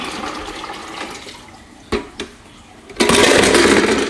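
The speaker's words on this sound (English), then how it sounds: "I'll just go ahead and dump the canister into the bucket" Water from an aquarium canister filter gets dumped into a bucket: a low trickling rush, two brief splashes, then a loud sustained pour of water sloshing into the bucket.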